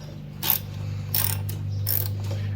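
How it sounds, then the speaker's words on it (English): Ratcheting wrench loosening a 10 mm fuel tank bolt on a 1972 Yamaha RT1-360 Enduro motorcycle, giving a few close, brisk ratchet clicks over a low steady hum. "we are now going to undo that bolt right there, and we'll take the tank off"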